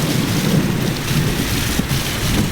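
Heavy rain pours steadily onto a village street with water running, with a low rumble of thunder beneath the dense, continuous downpour.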